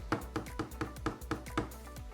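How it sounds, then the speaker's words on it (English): Metal top plate of a Redragon K552 mechanical keyboard being tapped, about nine evenly spaced, close, resonant knocks with short ringing decays and no talk. "That is the sound of metal"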